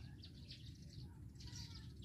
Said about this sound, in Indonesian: jadi suara burung ini sangat apa ya buat background video ini nih cocok lah